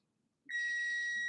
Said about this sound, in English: I don't remember putting a timer on.